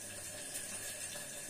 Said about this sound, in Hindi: थोड़ा सा पानी भी ऐड करेंगे हम इसमें एक पेस्ट तैयार करने के लिए